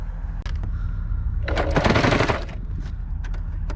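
A Singer heavy duty sewing machine runs a zigzag stitch through sail fabric, a close rapid mechanical whir that swells into a louder sustained run in the middle before easing back to slower clatter.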